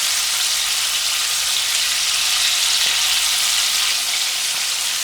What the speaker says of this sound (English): While you're deep frying this